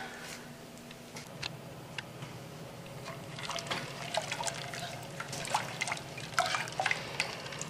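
A pot of venison marinade heats toward a boil, faint bubbling and ticking drips that grow busier and slightly louder toward the end, alone without speech.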